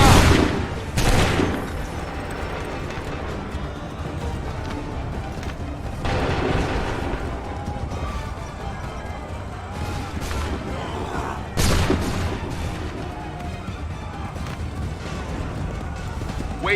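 Musket volleys crack out in Assassin's Creed 3 battles, several loud bursts rolling into rumbling echoes with a scattered crackle of shots between them, while voices shout commands throughout.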